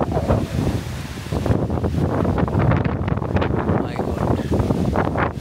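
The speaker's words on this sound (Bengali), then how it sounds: "এই বাতাসের দরকার নেই রে, বৃষ্টি আয়।" Strong wind blows across a maize field on a farm during rain, with a heavy, roaring rush and buffeting against the microphone throughout, loud and continuous, with voices faintly mixed in.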